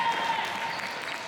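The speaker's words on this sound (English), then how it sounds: "Cheer goes out around the venue." A crowd at a roller derby bout between Western Sydney and Blue Mountains claps and cheers in a dense, sustained wash of applause that fills the venue from start to end.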